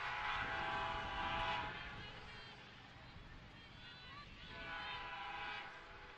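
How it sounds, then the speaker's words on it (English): A train passes behind a softball field in Emory, Virginia, a steady distant rumble with faint horn-like tones rising and falling across the stretch, under a game announcer talking throughout. "you can hear the train behind us"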